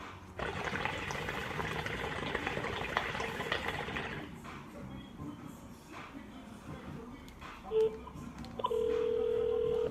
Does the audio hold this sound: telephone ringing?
yes